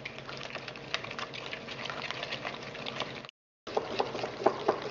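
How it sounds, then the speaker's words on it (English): Oil being mixed into carrot cake batter with a wooden spoon, a close, continuous wet slapping and squelching with rapid irregular strokes and a brief pause near the end. "pour the oil in, and then just using your wooden spoon, just mix that together"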